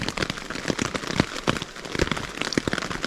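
Heavy rain pours steadily beside a river, a dense continuous hiss of drops striking surfaces with scattered sharper splats and crackles throughout, no voices present.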